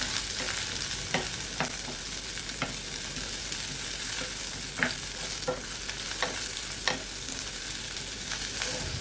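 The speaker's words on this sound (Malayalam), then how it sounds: "അതിലേക്ക് നമ്മൾ അരിഞ്ഞു വെച്ചിരിക്കുന്ന ചെറിയ ഉള്ളിയും അതുപോലെ 3 പച്ചമുളകും മുരിങ്ങയ്ക്കയും ചേർത്ത് ഒരു 5 മിനിറ്റോളം വഴറ്റുക" Shallots, green chillies and drumstick pieces sautéing in coconut oil for a Kerala theeyal, a constant close sizzle with irregular clicks and scrapes of a stirring spoon against the pan.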